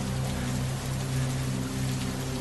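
Steady rain falls without a break, a dense, even hiss of drops on surfaces with a low rumble beneath, continuous and fairly loud throughout, with no voices.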